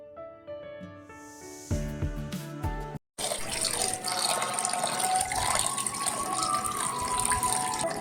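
Fish being washed under a running tap in a home kitchen, a steady close rush and splash of water filling the last five seconds after a short burst of music at the start.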